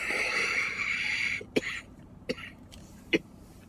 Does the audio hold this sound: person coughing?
yes